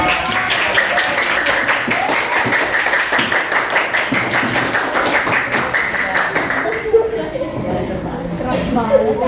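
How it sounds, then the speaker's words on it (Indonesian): Classroom applause for student group 6, an all-boys group, as dense close clapping for several seconds that fades into quieter talk. "Oke, berikan tepuk tangan."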